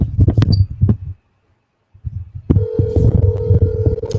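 A phone plays dialing tones close up: a burst of short clicks and taps, a brief silence, then a steady sustained ringing tone with handling noise underneath.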